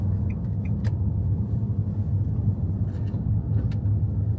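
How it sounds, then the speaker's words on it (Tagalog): Road traffic in Tokyo heard from inside a vehicle, a steady low engine and road rumble throughout with a few faint clicks and taps, continuous and without talk. "Sobrang traffic, uy. The traffic."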